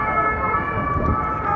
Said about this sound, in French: il y a soit la police, soit les pompiers, mais il y a toujours des sirènes